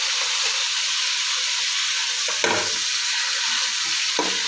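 Chicken pieces shallow frying in a pan of oil give a steady, dense sizzle that fills the whole clip, with a couple of brief clatters of a utensil against the pan near the end.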